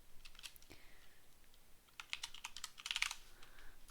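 Computer keyboard being typed on and handled at a home desk, light clicky keystrokes in irregular bursts, close and fairly quiet, with a busier flurry of taps near the end and no talking.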